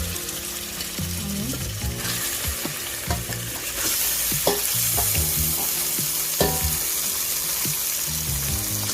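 Onions frying with salt and garlic-ginger paste in a pan, a steady loud sizzle with repeated scraping stirs of a spoon against the pan, no talking.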